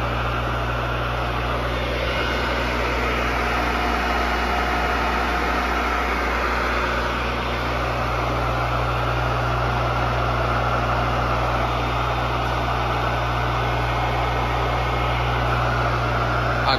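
An Eberle 3 HP two-pole single-phase electric motor runs on 220 volts with no load, giving a loud, steady, continuous hum and whir with no change in pitch.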